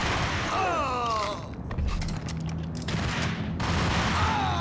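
Ingram submachine guns firing in the video game Max Payne: dense, loud bursts of automatic fire and booms come in clusters over a steady background of game sound and music.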